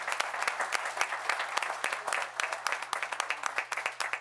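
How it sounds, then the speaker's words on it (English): Applause at a town board meeting from a modest crowd, individual claps distinct and rhythmic, fairly close and steady throughout with a faint low hum underneath. "Please give her a round of applause."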